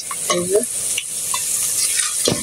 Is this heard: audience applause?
no